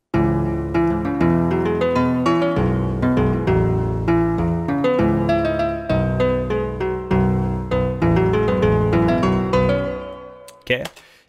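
A self-recorded music loop plays alone, with dense layered chords and rhythmic note attacks over a steady bass, looping evenly before fading out with a short noisy burst at the end.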